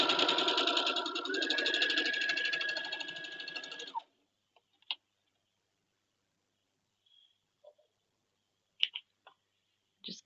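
A sewing machine stitching quilt squares at a quarter-inch seam runs steadily and close for about four seconds, then stops, followed by a few faint clicks and handling taps of the fabric.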